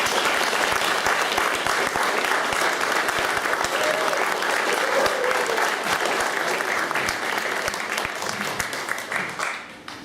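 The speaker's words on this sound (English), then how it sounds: "So would you please give a big round of applause for Professorson." Audience applause at a Christmas pageant in a church, a large crowd clapping densely and steadily for about ten seconds before tapering off at the end.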